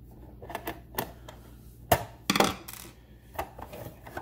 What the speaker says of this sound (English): There'll be a screw in the back here. Just take that guy out,